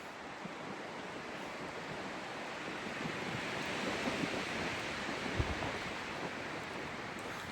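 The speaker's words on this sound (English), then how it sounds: "Wow, that wind is really whipping." Strong wind buffeting at a frozen mountain lake in the Selkirk Mountains, a loud steady roar of gusts rushing across the microphone, swelling slightly midway, with no voices.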